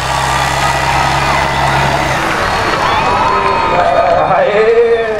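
Crowd cheering at a tractor pulling event in the agricultural 3500 kg class in Holambra, a steady roar of voices over engine noise with a rumbling tractor idling beneath and rising in pitch, loud and close, with a voice speaking over it.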